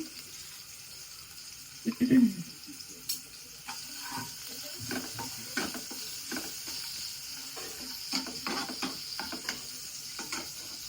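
Chopped garlic frying in oil in a pan for Gobi Manchurian sizzles softly while a utensil scrapes and stirs in repeated short strokes, close and moderately quiet.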